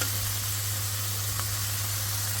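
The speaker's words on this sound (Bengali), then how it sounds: "মাছ ভাজি করে নিতেছি" Fish frying in a pan in a home kitchen, a steady broadband sizzle with a low constant hum underneath, continuous and close with no talking.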